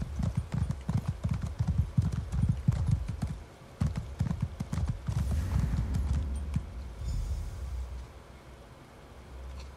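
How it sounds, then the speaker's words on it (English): In Elder Scrolls Online, a fast horse gallops with a quick, close run of hoof clip-clops. The hoofbeats are busy and uneven at first, then thin out and fade toward the end. "You have a very fast horsey."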